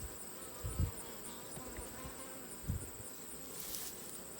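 Honeybees buzzing in a steady high drone while a brood frame is pulled from a healthy hive, with a few soft thumps and taps of handling close by.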